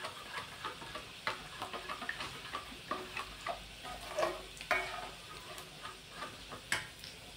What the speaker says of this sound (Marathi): लसूण छान असा सोनेरी रंग येईपर्यंत तळून घ्यायचा आहे तेलामध्ये